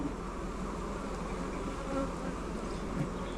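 Honeybees swarming around a hive during a split, a dense continuous buzz of many insects up close, steady and moderately loud with no talk.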